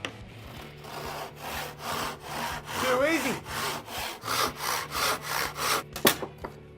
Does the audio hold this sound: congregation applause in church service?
no